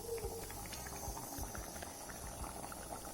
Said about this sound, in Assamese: এতিয়া উতল আহিব ধৰিছে।